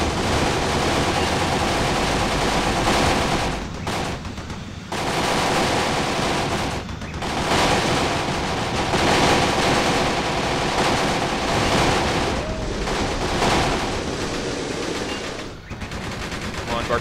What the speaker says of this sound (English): Oh my goodness, look at all that enemy fire.